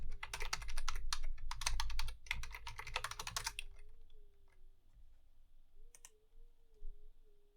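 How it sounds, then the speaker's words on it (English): Rapid, dense typing on a computer keyboard during live coding in Elm, a loud close burst of keystrokes that stops abruptly after a few seconds, leaving a faint hum and a few scattered clicks. "I was typing too fast."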